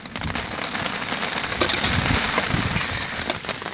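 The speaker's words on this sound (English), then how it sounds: "As you can probably hear, it's still chucking it down." Heavy rain pours down steadily, drumming hard on a surface nearby in a dense, continuous roar.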